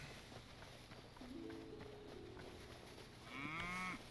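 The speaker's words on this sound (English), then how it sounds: "Ooh, there's cows." Cows in the video game Hytale moo over a quiet outdoor ambience: one long, low drawn-out moo, then a shorter, higher-pitched bellow, both fairly faint and at a distance.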